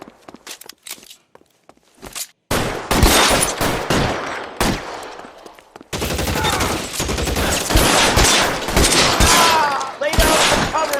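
Gunfire in an L.A. Noire video game shootout: sparse clicks and steps, then dense bursts of rapid close shots and volleys that come and go in loud waves.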